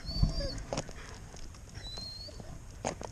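A highly excited dog whines during a dog-to-dog greeting, with thin, high, wavering whimpers and soft snuffling sounds, faint and intermittent against a quiet outdoor background.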